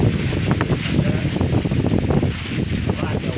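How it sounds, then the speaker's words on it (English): Strong wind blows leaves around outdoors, a steady rushing roar with microphone buffeting. People talk over the wind. "We got a lot of wind and leaves and shit blowing."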